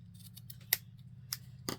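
Scissors trim paper while making a DIY envelope: three crisp, close snips land at uneven intervals over a quiet background.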